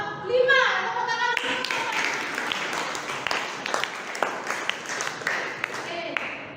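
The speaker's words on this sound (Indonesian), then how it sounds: "Tepuk tangan." A room of people bursts into clapping hands after a best group presentation is announced in a classroom coaching session, a steady burst of applause with a few sharper claps standing out.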